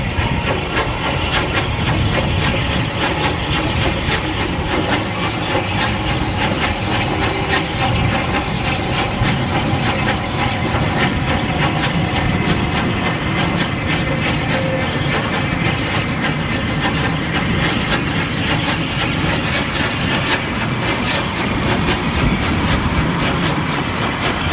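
Two Battle of Britain class steam locomotives cross Corfe Viaduct at the Swanage steam gala, giving a steady, continuous rumble of wheels and rolling stock with hiss throughout, moderately loud and sustained with no voices.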